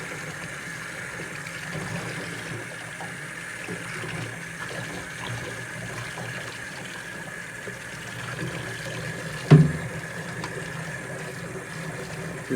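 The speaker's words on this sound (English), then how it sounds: "I like to make sure that I blast water down into the action." Water from a tap blasting into the action of a black powder revolver being rinsed in a sink, a steady hissing flow with one brief sharp knock partway through.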